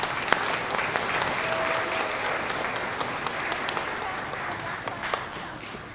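Dense, steady applause for elementary school students of the month fills a school assembly, sustained throughout with a few sharp claps standing out near the end.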